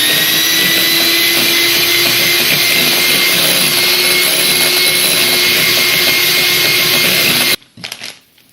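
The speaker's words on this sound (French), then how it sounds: "Vous allez mettre votre batteur à fond et c'est parti" An electric hand mixer runs at full speed whipping cream with brown sugar, a loud steady whir that holds for about seven and a half seconds and then cuts off abruptly.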